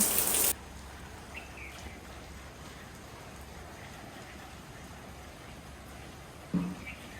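Continuous soft rainfall hissing in the background, fairly even and moderate, with a couple of brief louder bumps at the start and near the end.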